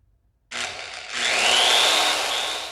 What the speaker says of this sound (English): Holes are drilled, and I just went with the bit size that came with the instructions on this recoil pad.